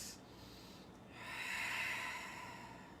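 A single slow yoga breath during a power yoga class, a short sniff followed by a long soft exhale through the nose, close and quiet with no talk.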